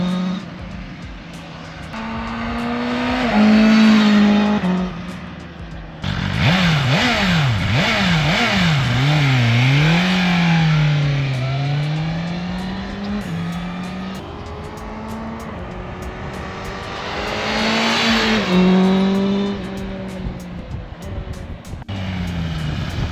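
A 2024 BMW M1000R sportbike screams past several times, each flyby rising in pitch as it nears, peaking loud, then falling away with a Doppler drop, with upshifts and revving between passes.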